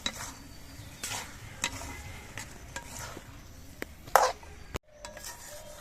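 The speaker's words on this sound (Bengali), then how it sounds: "আর এক চামচ পরিমাণ ঘি দিচ্ছি এবার নেড়ে চেড়ে মিশিয়ে নিয়ে আমি নামিয়ে নিচ্ছি" Pointed gourd cooked with ghee being stirred in a pan, a soft low sizzle broken by sharp clacks and scrapes of a spoon against the pan, ending in a final clatter and a brief hush.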